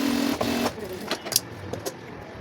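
A sewing machine top-stitches a salwar, giving a brief close motor whir of under a second, followed by scattered light clicks and fabric handling noises.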